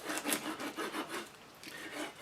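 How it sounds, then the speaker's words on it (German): A serrated knife saws through pork rind in repeated rasping back-and-forth strokes, close and fairly quiet, with a brief pause before the strokes resume. "Brauche ich dann eher das Messer mit dem Sägezahn."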